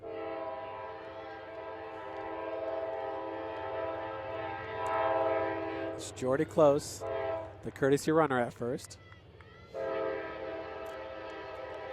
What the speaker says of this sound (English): Here comes the 405 train, making its appearance be known.